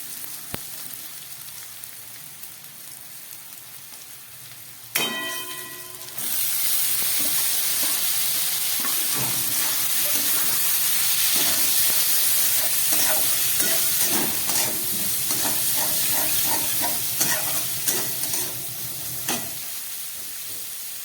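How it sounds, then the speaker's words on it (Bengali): Chicken tarka with spices frying and being stirred over a low gas flame: a steady close sizzle and hiss that jumps louder a few seconds in, with repeated scraping stir strokes and clinks throughout, no talk. "খুব একদম গ্যাস কমিয়ে তরকাটাকে আমি খুব ভালো করে মশলা দিয়ে কষিয়ে নিচ্ছি।"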